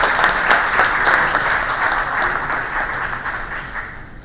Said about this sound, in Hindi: जोर से ताली बजाइए COI के लिए